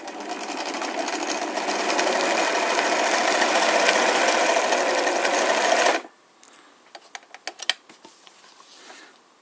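An Elna industrial sewing machine stitches at a fast steady hum for about six seconds, set to maximum thread size and stitch length with a slight tension issue. It then stops, leaving a few light clicks and rattles.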